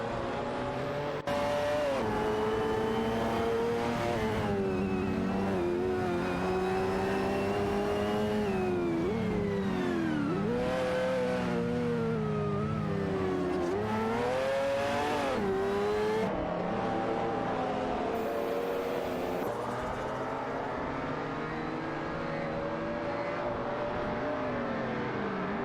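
Race cars roar through continuously in an AI racing game, engines whining up and down through gear changes as cars overtake one another, loud and constant with no voices.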